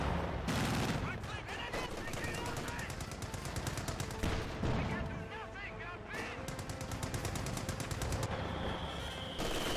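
Machine gun fire from German MG42 and MG34 guns in the Company of Heroes 2 real-time strategy game rattles in rapid continuous bursts with scattered gunshots, mingled with in-game voices.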